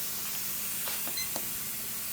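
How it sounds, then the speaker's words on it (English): A steady, even hiss of steam venting from a pressure cooker holding chicken gizzards, with a few faint clicks and a brief high beep. "Steady flow of steam. You can't see it, but you can hear it."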